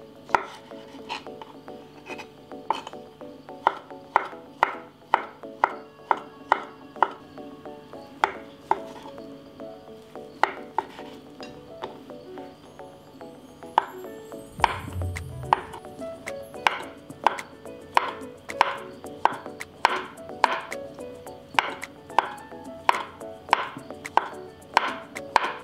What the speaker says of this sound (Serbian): ostalo mi još da iseckam krompir i šargarepu. Isto sečem na sitne kockice.